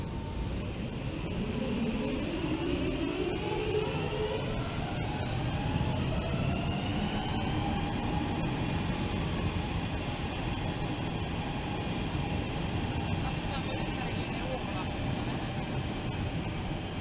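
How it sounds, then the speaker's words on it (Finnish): An approaching train rumbles steadily nearby with rising and falling tonal squeals from the rails, a continuous roar lasting throughout. "Nyt se juna tulee."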